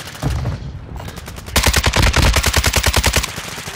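Rapid automatic gunfire from the video game Call of Duty: Warzone 2.0 on the Ashika Island map, with a few scattered shots followed by a loud, sustained burst of fast rhythmic fire.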